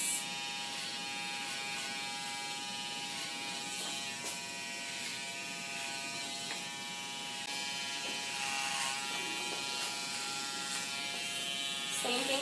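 Electric hair clippers trim a model's neckline at close range, a steady high buzz running throughout with slight shifts as the blade moves along the hair.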